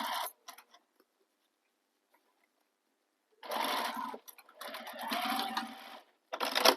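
A sewing machine stitches a bag in two bursts of running separated by a quiet pause, near and fairly loud, with brief short starts at the beginning and a final short burst at the end.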